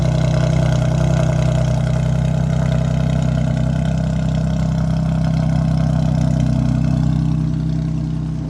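Car engine fitted with a K&N cold air intake, running at a steady idle with a deep, even hum and a slight rise in pitch, loud and close with no talk.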